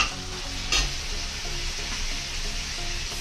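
Vegetable poha being stirred while it fries in a pan, a steady sizzle with scraping stir strokes and one sharper clatter, close up, with no voices.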